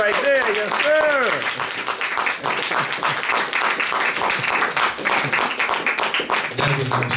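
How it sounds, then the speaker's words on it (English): An audience applauds at a Straight Black Pride Movement tribute event, with sustained dense clapping throughout and a few vocal shouts and cheers near the start. "Give the brother another round of applause."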